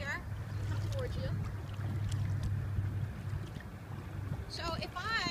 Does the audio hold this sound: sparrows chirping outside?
no